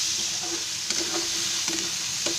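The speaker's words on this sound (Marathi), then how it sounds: "मसाला असा चांगला भाजून घेतला ना, हलवून असं चांगला भाजून घ्यायचा" Masala fries in hot oil for a brinjal and potato sabzi, a soft, steady sizzle broken by several scraping stirs of the spoon through the pan, close and alone.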